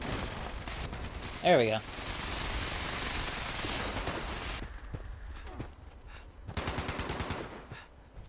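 Single-action revolver fire in Fallout 76, a quick burst of sharp shots early on, then game noise with a short voice remark and a later rapid rattling stretch.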